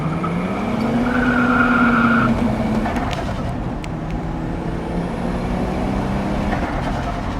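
A front-wheel-drive Nissan Micra drifting, its engine droning loudly with rising and falling tones and tire squeal for several seconds, then steady road roar.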